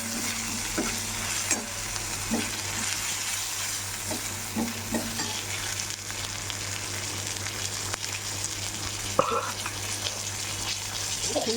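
Sesame seeds, curry leaves, green chili and ginger paste frying and being stirred in a pan, a steady close sizzle with occasional spoon taps and a constant low hum beneath.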